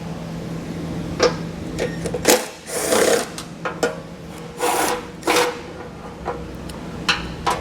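A 14mm socket on an extension loosens bumper beam bolts while a hidden trailer hitch is fitted to a 2021 vehicle, giving close, uneven bursts of rapid ratcheting clicks and scraping metal with short pauses between them.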